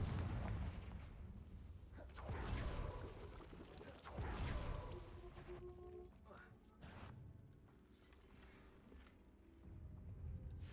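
Confringo fire spell in the video game Hogwarts Legacy, with booming blasts and whooshing bursts over game ambience while a player talks.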